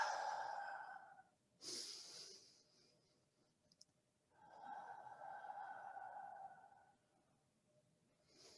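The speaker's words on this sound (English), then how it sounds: "Nice deep breathing in through the nose if you're able." Slow, deep qigong breaths drawn in through the nose, soft and close, in long hushed waves separated by near silence.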